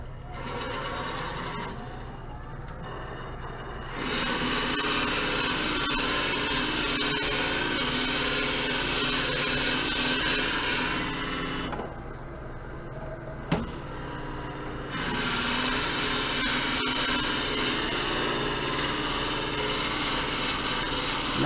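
Rikon 70-220VSR midi lathe drilling out a wooden salt and pepper mill, a steady high motor whine with a harsh cutting hiss that stops twice briefly, then resumes, close and continuous.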